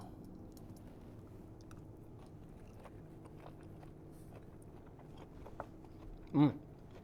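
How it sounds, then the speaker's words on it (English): A close, single crunchy bite into smoked tuna salad topped with chili crunch and olive oil comes near the end, over a quiet room background. "Let's get a bite."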